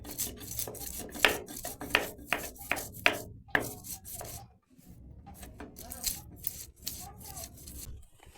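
A spice paste is ground by hand on a grinding stone, with rhythmic rasping strokes that are loud and close at first, then softer, uneven rubbing toward the end.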